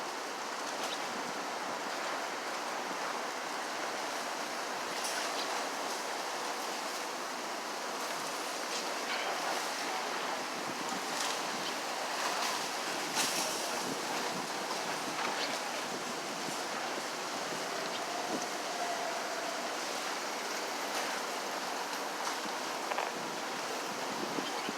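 Strong wind roars as a steady, broadband rush on a Boston street after high winds knocked down scaffolding, continuous and fairly loud with no voices.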